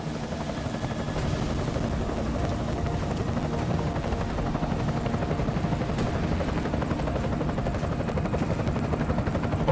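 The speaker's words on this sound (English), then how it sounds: "Enemy helo sighted." Enemy helicopter in a video game, its rotor thumping steadily and loudly throughout with a dense, unbroken chopping roar and no speech.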